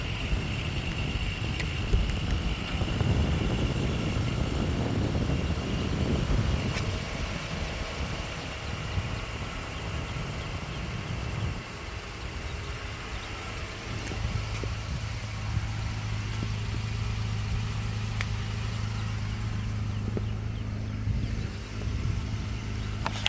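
A 2020 Honda Ridgeline RTL-E idles after a remote start from the key fob, a quiet steady engine hum outdoors with faint wind and no talking.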